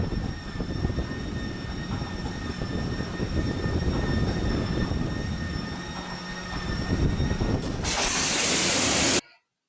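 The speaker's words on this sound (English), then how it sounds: "It has an electric crank, and you can hear it starting up." A rotary aircraft engine started by an electric crank drones loud and close with a constant whine, then surges into a burst of broadband roar before cutting off abruptly.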